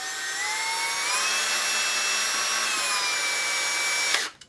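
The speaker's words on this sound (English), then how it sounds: "So I've got the drill standing by, make sure the wrench is in place" A drill drives screws during the build of a budget 1/5-scale 4x4 RC monster truck crawler. A continuous, close, high-pitched motor whine drifts slightly in pitch for about four seconds before stopping abruptly.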